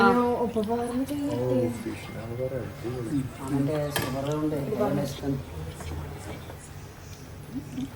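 Plates and cutlery clinking at a family table as everyone begins eating a meal that includes butter chicken: light scattered clinks and scrapes mostly under continuous conversation.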